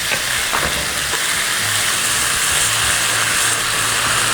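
Shrimp shells fry in hot oil, giving a steady, dense sizzle that stays loud and close throughout with no talking.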